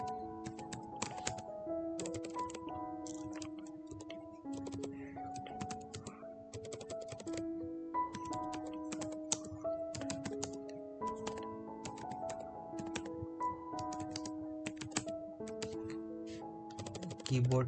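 Keys clatter steadily and fast on a computer keyboard while code is written to reverse a stack, a continuous close ticking over soft tonal background music.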